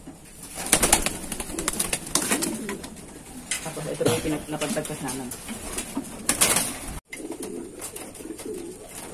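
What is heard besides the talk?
pigeons in a loft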